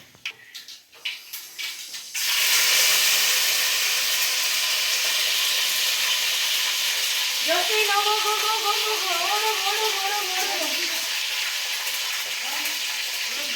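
Mustard seeds crackle and sizzle in well-heated oil, a steady loud frying hiss after a brief opening of clatter, with popping bursts midway; a voice talks over it.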